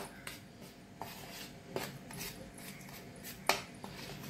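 Rice flour coating with salt and chili powder being mixed for Bombay duck fish, with soft scraping and occasional clinks of a utensil against a bowl, quiet and close, a few sharper taps spaced irregularly.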